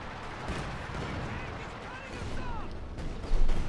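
Mortar and grenade fire in a Company of Heroes 2 battle, a dense rumble of distant blasts and scattered gunfire, with a louder impact near the end, under fast commentary speech.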